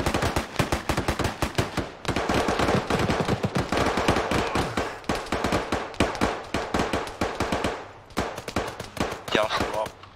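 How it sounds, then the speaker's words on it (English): Rapid bursts of video game gunfire rattle almost continuously, dense automatic fire with brief gaps, loud and close, with voices talking over the shooting. "I think I'm being shot at."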